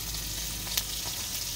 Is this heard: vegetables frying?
yes